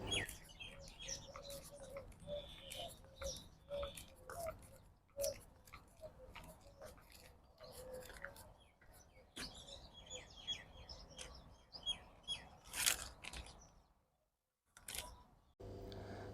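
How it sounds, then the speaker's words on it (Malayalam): Birds chirp and tweet intermittently through the trees of a park, fairly faint and at some distance, with scattered rustling and handling noises and a brief quiet gap near the end. "നിറച്ച് കിളികൾ അതിൻ്റെ കൊമ്പത്തൊക്കെ നിറച്ച് കിളിയുടെ ശബ്ദമാണ് കേട്ടോ"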